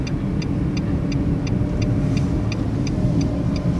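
A car engine running steadily in second gear during a driving lesson on a busy road, a continuous close rumble with a faint regular ticking, likely the turn signal, over it and no talk.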